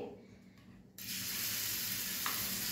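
Crushed green chili thecha hitting hot oil, a sudden loud sizzle after a quieter start that settles into a steady close frying hiss.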